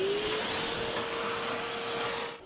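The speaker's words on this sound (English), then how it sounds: "let's vacuum that up and see how it looks" A vacuum cleaner runs with a steady whining hiss, close and continuous, before trailing off at the end.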